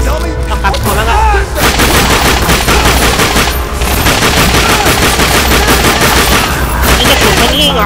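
Sustained, loud gunfire from The Darkness II blazes continuously for several seconds, dense rapid shots and heavy blasts packed together with only brief dips, dominating the scene with no voices.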